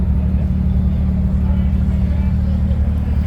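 A Ferrari Challenge race car drives on the Speed Vegas circuit, its engine a loud, steady low drone that stays constant throughout without rising or falling.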